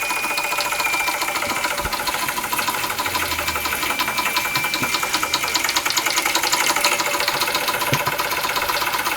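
An American Jensen Model 65 steam engine runs under steam, its rapid even chuffing and mechanical knocking close by and steady throughout, with no talk.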